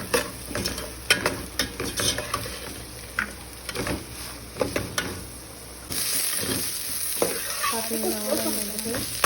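Sliced onions frying in oil until golden for chicken biryani, a steady sizzle broken by repeated scraping stirs of a spoon against the pan, close up.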